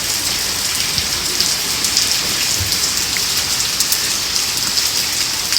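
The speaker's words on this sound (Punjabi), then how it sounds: "ਬਹੁਤੀ ਬਾਰਿਸ਼ ਹੋ ਗਈ ਅੱਜ ਤੇ" Heavy rain pours down in Amritsar in a dense, unbroken hiss, loud and close, with scattered drops spattering on surfaces.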